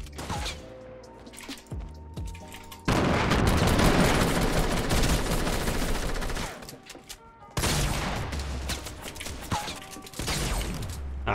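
Video-game gunfire in a squad match: bursts of rapid automatic shots and mechanical clatter, with loud sustained volleys in the middle and again near the end, and quieter gaps between them.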